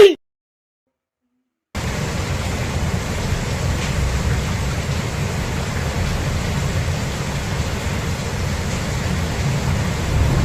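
Steady rain in Sakura School Simulator hisses continuously after a brief silent gap at the start, an even wash of noise with no voices.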